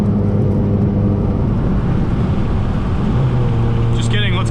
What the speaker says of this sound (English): Let's get some downshifts.